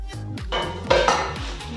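A newly bought metal frying pan (vaanal) clanks and scrapes as it is handled, with sharp ringing metallic knocks and rattles throughout and no talking.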